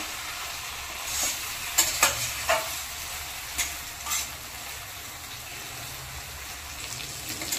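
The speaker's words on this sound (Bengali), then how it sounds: "তো চিংড়ি মাছটা দেওয়ার পরে ভালো করে আরও 2-3 মিনিট কষে নিয়েছি।" Shrimp with pumpkin and potato fries in a pan with a soft, steady sizzle, while a few sharp clinks and scrapes of a spatula stirring the pan stand out now and then.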